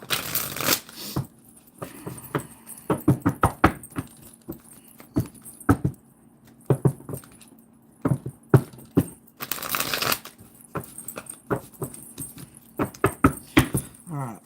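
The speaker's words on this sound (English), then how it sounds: "let's just give this deck a bit of a shuffle" Cards riffle and snap repeatedly in quick bursts, close up, with soft shuffling and tapping in between and no talking.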